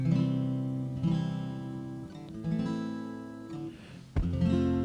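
Acoustic guitar chords ring out, strummed and left to sustain, with a few chord changes and a fresh strum near the end.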